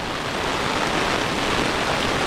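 Heavy rain pours down steadily during a wet trip to a farm, a dense, even wash of noise that stays constant throughout with no voices over it.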